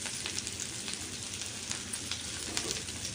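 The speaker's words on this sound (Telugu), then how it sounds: "ఇవన్నీ వేసుకుని బాగా వేగించుకోవాలండి." Spices with freshly pounded ginger garlic paste fry in a pan for a dhaba-style kaju paneer masala curry, giving a steady close sizzle with light crackles and stirring.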